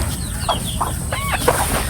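Chickens give a few short, soft clucks against a steady background hiss, up close, with no one talking.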